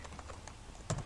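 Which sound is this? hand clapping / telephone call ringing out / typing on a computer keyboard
typing on a computer keyboard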